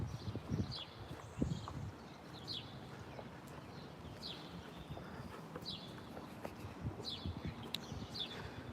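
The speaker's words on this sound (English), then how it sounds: "Bird's chirping right now." Small birds chirp in short, scattered bursts at a moderate distance over steady outdoor background noise, with a few thuds and rustles nearby.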